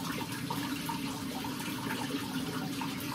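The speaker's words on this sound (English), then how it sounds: "I'm going to rinse it off whilst it's going." Steady running tap water splashing over a spinning skincare cleansing device held beneath the stream, a continuous close rush of water with no talk.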